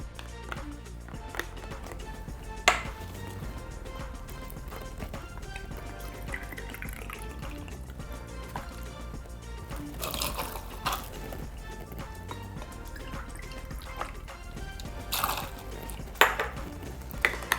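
White rum measured out and poured into a jigger for a Mai Tai, with small clinks of glass and metal and brief liquid pours over a steady low background hum.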